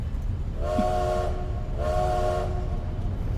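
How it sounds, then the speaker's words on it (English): A train whistle sounds twice as a sound effect, two steady chord-like blasts of about a second each separated by a short gap, over a constant rumbling background. "you hear the train's whistle go off a couple of times"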